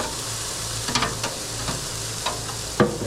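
Hamburger patties, six pounds of ground beef, sizzle steadily on a grill with a constant crackling hiss, broken by a few sharp spatula taps and clicks, with no talking.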